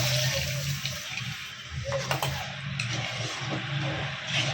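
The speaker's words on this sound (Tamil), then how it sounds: "இந்த தண்ணி நம்ம அப்படியே ஊற்றிக்கலாம்" Tamarind water mixed with coriander is poured into a fish curry, a close, moderate splashing trickle with a few small clinks.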